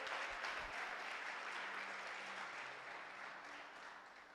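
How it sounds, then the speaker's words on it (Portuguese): A church congregation applauds in a steady, dense wash of clapping that stays even throughout and fades slightly toward the end, with no speech over it. "aplauda o Senhor"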